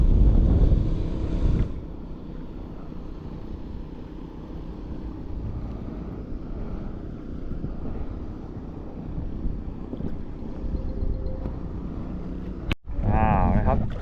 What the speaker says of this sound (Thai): ลมก็พัดแรงนะครับ